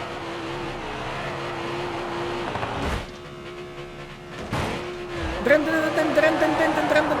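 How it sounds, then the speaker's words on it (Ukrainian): A Lamborghini Temerario's engine in the BeamNG video game hums at a steady pitch and revs sharply with two loud bursts, while someone talks over the sound throughout. "У нас якось так звучить двигун."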